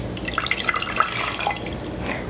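Water is poured for a pickle brine headed to the stove, producing a steady trickling, bubbling stream with scattered droplet plinks, close and fairly loud, with no voices.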